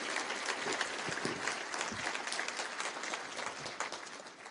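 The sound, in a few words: applause for elected officials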